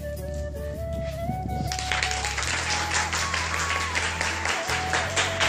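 Teachers clap together in a room, a dense, steady patter of applause running for several seconds, with a tonal electronic sound and some background voices underneath.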